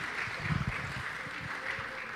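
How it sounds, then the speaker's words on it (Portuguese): Soft applause from a church congregation at a Sunday morning anniversary conference, scattered claps sounding fairly distant and low against a steady room hum. "Palmas para eles aí, pessoal."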